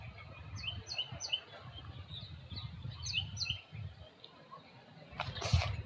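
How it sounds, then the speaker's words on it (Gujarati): A parrot calls repeatedly from a distance over a farm field, a series of short, high squawks in bursts above low rustling background noise. "આ જો પોપટ"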